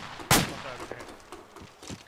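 Video game gunfire: a loud, close burst of shots opens, then a scatter of fainter single shots follows, with some indistinct voice or radio chatter in the background.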